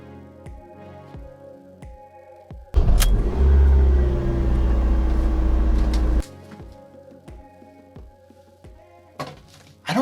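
A car engine bursts into a loud, roaring rev for about three seconds and then cuts off abruptly, set against a quiet background of sparse, regular clicks and thumps.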